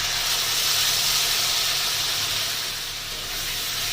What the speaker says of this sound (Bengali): এবার যে পেস্টটা আমি করে রেখেছিলাম সেটাকে এর মধ্যে দিয়ে দেব।